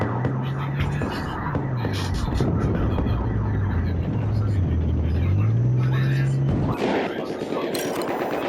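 Tank engine rumbling in the Battlefield 4 video game, a steady low drone with shifting pitch that runs loud and continuous under gunfire bursts and talk.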